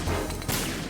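A grenade explodes in Metal Gear Solid 2: Sons of Liberty on Xbox One, a loud sharp crash that booms out and rolls into a dense rumbling wash lasting under a second.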